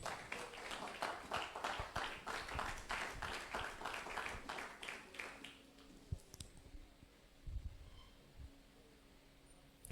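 Church congregation clapping together, a fairly quick rhythmic run of claps for several seconds that then fades into quiet room sound with a few scattered knocks.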